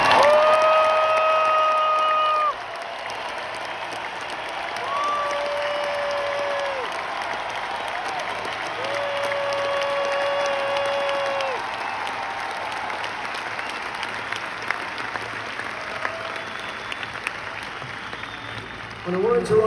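Concert crowd in a large Chicago arena applauding and cheering for a song tribute, a dense steady wash of clapping and shouts with a few whistles, lasting throughout and gradually thinning toward the end.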